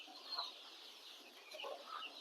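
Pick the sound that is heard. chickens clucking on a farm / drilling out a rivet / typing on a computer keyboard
chickens clucking on a farm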